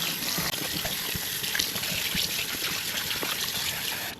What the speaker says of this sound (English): Some cold water to wash my chicken.